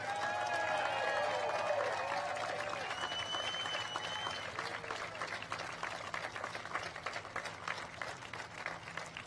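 An audience applauds at a political rally in a manufacturing venue in Waukesha, Wisconsin, sustained loud clapping with crowd cheers and whistles that gradually thins over about nine seconds.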